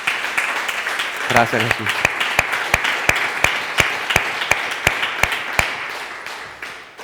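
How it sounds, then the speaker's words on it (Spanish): Applause at a church service, a crowd clapping in a steady, sharp rhythmic beat near the microphone while a voice briefly speaks over the start. "Dale un aplauso a Dios"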